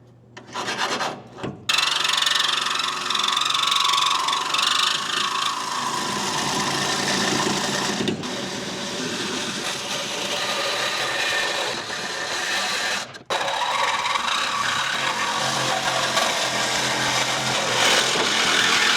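A steel car frame rail being cut for a C-notch suspension install gives a loud, continuous abrasive grinding rasp that runs almost nonstop for about nineteen seconds, broken only by a few brief pauses.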